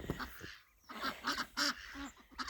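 Ducks and geese kept in a snowy pen give a few close, loud quacks and honks in quick bursts, with brief pauses between them.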